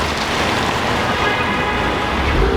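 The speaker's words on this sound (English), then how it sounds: "it's raining really hard" Heavy rain pours steadily in a dense, close hiss of drops on surfaces, with no pauses.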